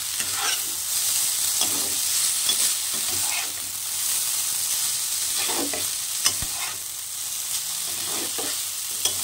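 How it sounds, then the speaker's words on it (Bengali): Street-style chowmein seasoned with salt and pepper is stirred around a hot pan, a constant oily sizzle beneath soft scraping and tossing strokes of the spatula. "এগুলো দিয়ে ভালো করে নেড়ে চেড়ে মিশিয়ে নিলাম।"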